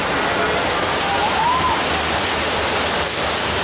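A small river at a fairground rushes with a dense, steady roar of flowing water that stays loud and close throughout, with a faint thin whistle rising briefly above it.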